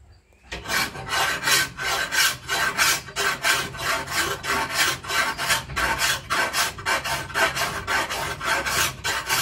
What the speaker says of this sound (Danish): Så gør han den lige skarp med en stor fil.